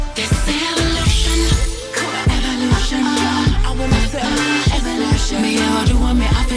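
A music track plays with a pulsing bass pattern and layered melodic parts, steady and full throughout with no talking over it.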